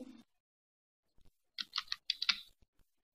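Someone types on a computer keyboard, switching between Tamil and English: a few isolated key taps followed by short bursts of quick clicking, close and fairly quiet, with gaps of silence between.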